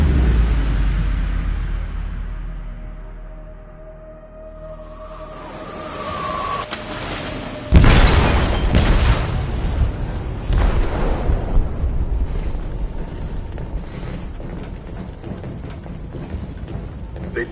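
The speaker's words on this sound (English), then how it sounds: "They detonated an explosive in the hold." A large explosion goes off in a ship's hold in Detroit: Become Human, a sudden loud boom followed by a long roaring, rumbling aftermath of debris and turbulence after a fading earlier rumble.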